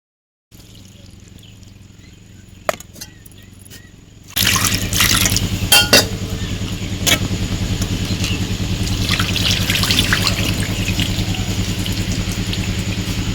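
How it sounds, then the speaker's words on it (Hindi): Pigeon pea lentils (arhar dal) are washed in water in a home kitchen: a quiet start, then steady close splashing and sloshing with drips and trickles as the grains are swirled and rinsed. "उसके बाद अरहर की दाल धुल लेंगे"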